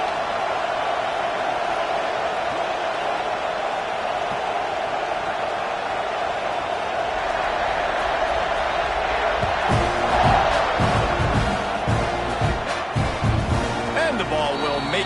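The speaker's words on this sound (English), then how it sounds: "this crowd is buzzing after that last score" A college football stadium crowd during Texas A&M versus Florida hums with a broad, continuous roar, swelling toward the end with thuds and scattered cheers, while commentators talk over it.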